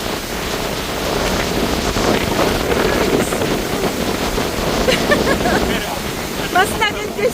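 Strong wind roars steadily into the microphone on a Boracay beach in habagat season, with dense broadband rushing and possible surf beneath it. Brief voices and movement noises come near the end.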